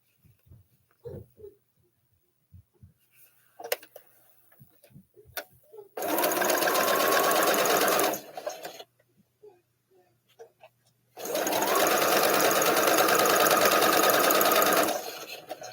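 A sewing machine stitches an Anita arrowhead quilt block in two sustained runs of rapid, loud, even whirring, with quiet pauses and soft handling noises between them.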